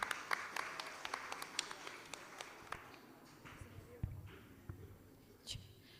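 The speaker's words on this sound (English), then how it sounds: "give applause to Miss Ria." Light, scattered clapping from a small crowd at a madrasah English community event, quick at first and then thinning out into a few isolated claps, with faint voices in the background.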